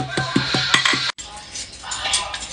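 A few sharp taps knock on a hard cooking oil bottle in quick succession, then a short pause and softer rustling and clinks nearby.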